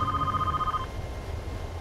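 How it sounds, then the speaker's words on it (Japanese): A security office telephone rings over an intercom in the Wii game 428 Shibuya Scramble. A short electronic ring tone sounds once and cuts off, with a low rumbling background underneath. "インターホン越しに警備員室の電話が鳴るのが聞こえた"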